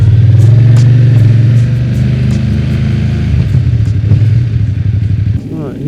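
A BMW F900 motorcycle engine runs loud and steady as the bike rides off road on a byway in Surrey, a low droning rumble with slight revving toward the end.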